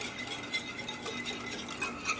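A spoon stirs a seasoning mixture in a bowl, making soft, continuous scraping and light clinks for a couple of seconds, quiet and close.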